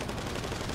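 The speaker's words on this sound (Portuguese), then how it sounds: "O Rafa sobreviveu ao tiro de trabuco" Rapid gunfire in GTA V Online during a deathmatch shootout in front of a nightclub, a dense continuous burst of shots lasting under a second, loud and sustained.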